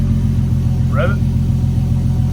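An Infiniti Q50 with its muffler deleted gives a low engine drone and rumble through the whole clip. The sound holds steady and close, with a short bright burst near the middle and people heard in the background.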